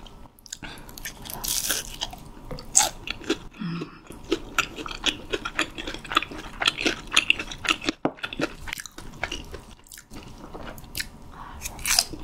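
Close, crisp crunching of fried squid eaten alongside spicy tteokbokki, with repeated bites and steady wet chewing throughout and no talking.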